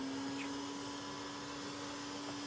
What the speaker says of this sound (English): Going to switch the vacuum on, so it's going to get a bit loud.